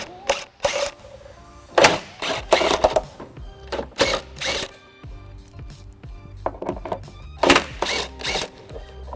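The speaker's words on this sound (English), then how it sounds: "I'll be using electric impact with a 15mm socket" Electric impact wrench with a 15mm socket on the trailer hitch mounting bolts of a 2005 Pontiac Aztek, giving short loud rattling bursts separated by pauses and small clanks, close by.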